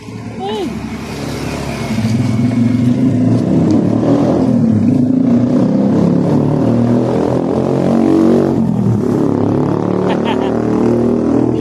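A motorcycle engine revs loudly and steadily, its throaty drone rising and holding throughout, with people talking over it.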